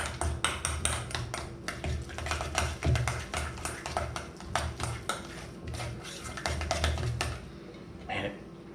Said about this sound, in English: Give it a good mix. Make sure you get everything down the sides there.